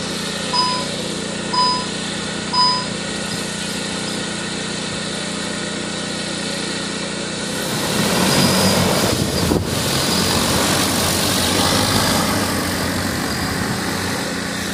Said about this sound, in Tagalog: At ready for take off na po itong ating drone.